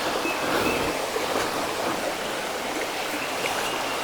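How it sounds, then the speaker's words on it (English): A small spring stream trickles and flows through hardwood woods, a soft steady rush of water with no talking. "kind of a spring over on this side, feeding in"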